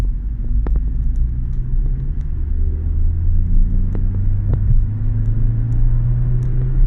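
A Fiat Tipo 1.4 16V naturally aspirated engine pulls in third gear from 1000 rpm, a steady low rumbling drone that slowly builds, heard from inside the car with no speech.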